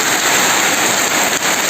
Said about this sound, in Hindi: यार ये देखिए सुंदर सा बारिश